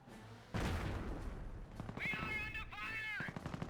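Mortar artillery fire from a US unit in the World War II strategy game Company of Heroes: a heavy boom lands, followed by a run of crackling battle bursts and two whining shell sounds, mid-distance amid ongoing combat noise.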